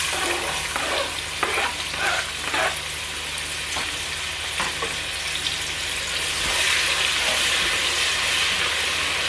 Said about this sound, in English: now I'm going to be adding my sliced diced onions